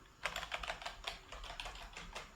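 Fingers typing on a computer keyboard, a quick irregular run of soft close key clicks, fairly faint, with no talk.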